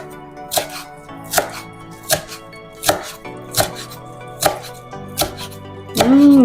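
Fresh cilantro chopped with a knife on a board for a vegetable salad: about nine evenly spaced, crisp knife strikes, close and clear, with no talking.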